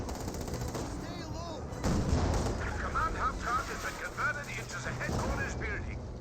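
A Volksgrenadier squad opens fire in Company of Heroes 2, with dense bursts of rifle and automatic gunfire and distant booming impacts rolling under continuous excited commentary.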